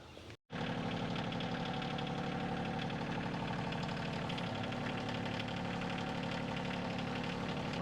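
A tractor engine rumbles close by after a brief start, then settles into a steady knocking idle with even vibration throughout.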